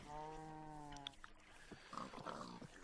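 A Minecraft pig gives a short run of grunts and snorts, close and fairly clear, followed by a few scattered clicks and soft game noises.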